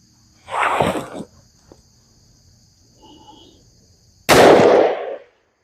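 Two heavy, booming shots from a Taurus Raging Hunter .500 Magnum revolver loaded with 400-grain jacketed soft-nose rounds, spaced a few seconds apart outdoors, each a sharp loud blast with a short decaying tail, with faint insect-like chirping between them.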